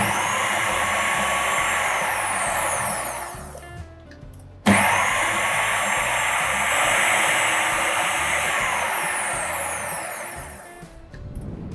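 Short pulses from a food processor grind almond flour for macarons, two loud whirring bursts of several seconds each with a harsh high motor whine, separated by a brief stop and ending in a quick restart.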